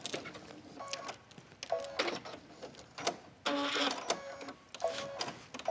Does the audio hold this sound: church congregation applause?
no